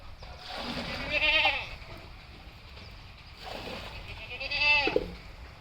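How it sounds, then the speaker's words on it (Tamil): Goats bleating on a rural farm where a nanny has recently given birth to two male kids, with two long, wavering bleats close by against a steady background hiss. "2 நாளைக்கு முன்னாடி நம்ம ஆடு குட்டி போட்டுருந்துச்சு."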